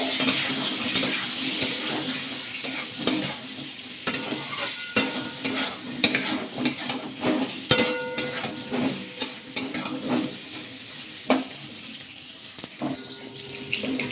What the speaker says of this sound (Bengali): নাড়া দেওয়া কিন্তু পটলগুলো ভাজা করে নিয়েছি